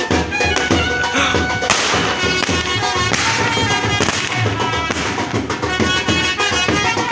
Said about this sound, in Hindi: अब आतिशबाजी, ये सरप्राइज है सबके लिए।